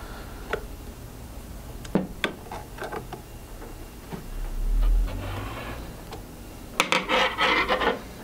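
Allen screws being tightened on a router bracket for a Stepcraft 2 CNC holding a DeWalt DW611 trim router, heard as scattered small metallic clicks and rasping turns with a brief low rumble, ending in a quick run of ratcheting ticks.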